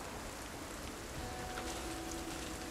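Steady rain falls in the zombie survival video game Project Zomboid, a constant dense hiss with no pauses and no talking.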